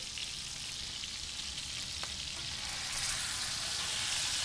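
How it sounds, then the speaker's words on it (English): Pork sears in a pan with a steady, close sizzle and crackle that hisses on without a break and swells a little near the end, with no voices. "You want to sear all sides."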